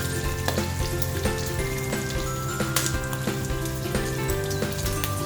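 Oil sizzles and crackles steadily in a hot pan before garlic and shallot are sautéed, a continuous dense frying hiss with scattered pops, close and fairly loud.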